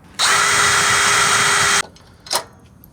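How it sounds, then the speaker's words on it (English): A power drill whines steadily for about a second and a half while boring small holes in a metal hookup bracket on a Peterbilt 389 truck, then stops abruptly and is followed by a short clatter. "we're gonna drill some smaller holes so we can secure this on here"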